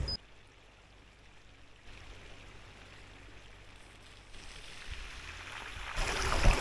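A bicycle on an Orbea Gain gravel bike rolls into a gravel ford, steady splashing and rushing water building louder toward the end, close by with no talk.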